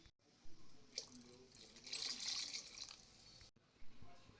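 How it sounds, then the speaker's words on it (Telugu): Water is poured into a pot of sambar, a quiet rushing and splashing that swells for a couple of seconds, with brief handling clatter before and after. "వాటర్ పోసేసుకుందాం కదా"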